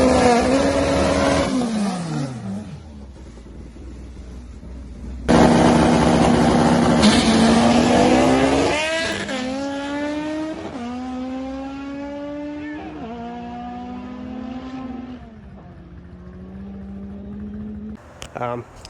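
An Acura TL with a naturally aspirated K24 engine making over 400 front-wheel horsepower runs on a dyno, loud repeated revs that climb and fall in pitch through gear pulls, with short lifts between bursts.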